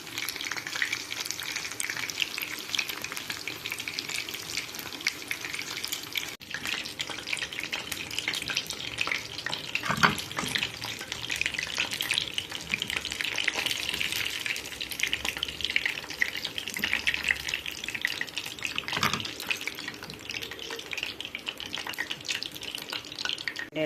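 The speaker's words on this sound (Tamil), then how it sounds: "இதையும் நல்லா மசாலா ஊதிராமல் வறுத்து எடுத்துடலாம்." Chicken leg pieces coated in masala fry in hot oil with a steady, hissing sizzle that runs throughout, near and even, with a few faint clinks.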